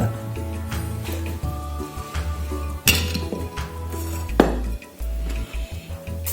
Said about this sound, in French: Et je mets l'huile de soja.